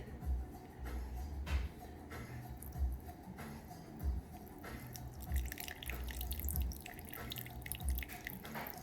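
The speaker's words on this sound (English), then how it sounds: "And then we're going to add 50 grams of water." Water is poured into a sourdough bread mix, heard as quiet trickles and small drips with soft, periodic low thumps from the bowl.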